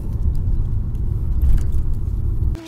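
A minibus engine rumbles loud and steady from inside the cabin while driving, a dense low drone that stops abruptly near the end, leaving a faint tone.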